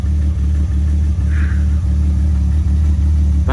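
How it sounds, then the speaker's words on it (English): A car engine runs steadily nearby after work on a loose negative battery terminal, a loud, even mechanical drone with a slight lift in revs partway through and no voices. "then we'll get the car started"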